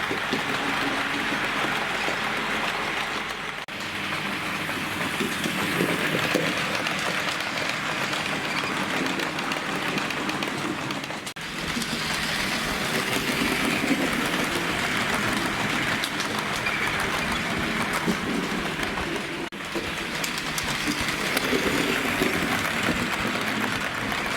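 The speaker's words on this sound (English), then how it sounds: "And here we are running at what I suggest is an express speed for this locomotive." A Bachmann L&YR class 05 model locomotive runs at express speed on a model railway, a steady, loud, continuous whirring rumble with faint clicking that holds throughout without pause, with no talk.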